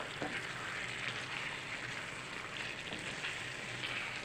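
Vegetable stew of onion with zucchini and potato simmering under a lid in a pot, giving a faint, steady bubbling hiss with a few soft pops and no voices.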